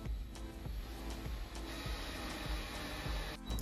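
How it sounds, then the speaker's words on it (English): Wood screws are driven through a piece of scrap wood to join boards for built-in banquette seating. A steady, quiet whirring grind is broken by faint rhythmic ticks, and it cuts off abruptly near the end. "I'm attaching all the boards together using wood screws"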